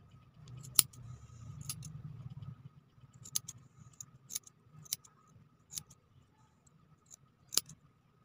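Scissors trimming the fuzz off a fuzzy pipe-cleaner wire, a run of sharp, faint snips spaced irregularly over a quiet room, with a soft rustle of handling near the start.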